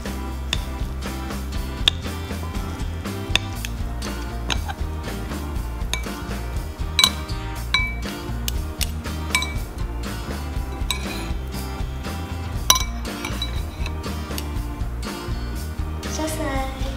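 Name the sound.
stirring instant noodles with sambal in a bowl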